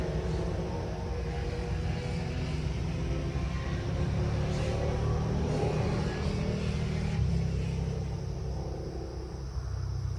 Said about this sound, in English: there's motorcycles going by